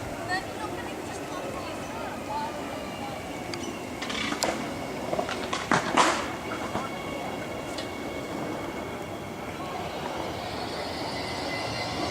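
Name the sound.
heavy freight train crossing Goodwood overpass level crossing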